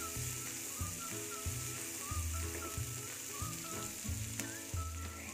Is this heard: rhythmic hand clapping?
no